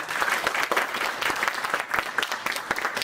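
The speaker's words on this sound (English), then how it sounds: "Round of applause." Audience applause at a collegiate eSports awards ceremony, a steady round of many hands clapping with distinct sharp claps standing out, moderately loud throughout.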